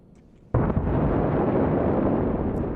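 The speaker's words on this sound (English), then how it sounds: "that looks like a successful launch" A light rocket launches in a Mars mining game: after a quiet moment, a sudden loud roar bursts in and holds as a steady, powerful rumble to the end.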